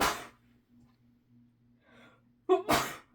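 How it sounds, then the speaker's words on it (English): A single sharp, loud sneeze bursts out near the end, preceded by a faint breathy intake over a low steady hum in a quiet room. "Now, I'm going to sneeze."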